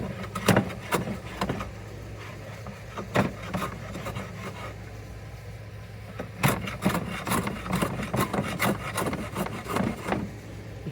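Hand plane with a No. 6 body taking passes across end grain wood, giving a series of short, rasping shaving strokes in irregular bursts, close and fairly quiet, with a brief pause before a quicker run of strokes near the end.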